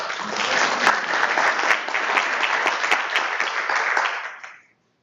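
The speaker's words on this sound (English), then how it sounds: "Let's give Du a big round of applause" Steady, dense applause from a conference audience after a talk on SharePoint project requirements, sustained loudly for about four seconds before tapering off quickly to silence.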